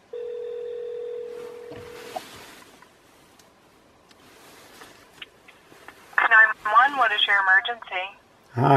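Phone on speakerphone calling 911: a steady dial tone for about two seconds, then a quiet stretch with faint clicks, followed by a loud voice on the line through the phone speaker.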